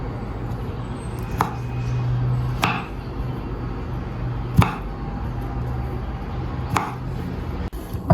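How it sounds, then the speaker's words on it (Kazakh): A knife chops broccoli on a cutting board with a few separate, sharp knocks spaced a second or two apart, close and clear. A low background hum runs underneath, and no one speaks. "Енді брокколимізді тураймыз."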